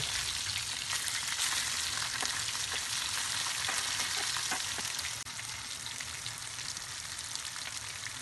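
Hilsa fish frying in hot oil and turning crisp on both sides gives a steady, dense crackling sizzle. It runs close and loud for the whole stretch, with no voices.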